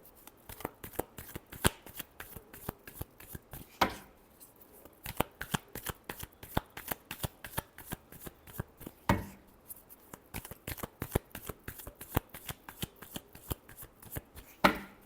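Tarot cards are shuffled by hand in rapid crisp riffles and flicks, a dense run of sharp papery bursts with two brief pauses between sets, close and alone.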